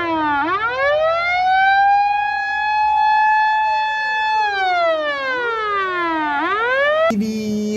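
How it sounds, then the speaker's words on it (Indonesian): Ambulance siren wailing loudly up and down in long, smooth sweeping cycles, close by, ending in an abrupt switch to a different steady tone. "lihat ternyata di sini ada mobil ambulan"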